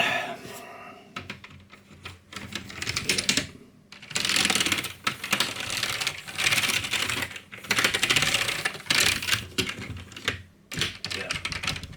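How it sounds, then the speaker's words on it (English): Keys clatter on an Amiga 600 computer keyboard during a key test, rapid close tapping in bursts with brief pauses between runs, no talking. "so we'll test the keyboard"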